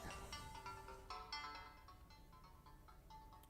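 A phone ringtone sounds during an incoming call in a live classroom lesson, a steady melodic electronic chime running continuously at moderate level over faint room noise.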